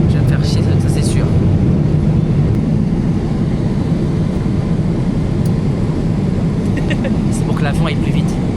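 Constant loud airplane engine roar heard from inside an aircraft departing Réunion, a steady dense rumble throughout with no clear talk.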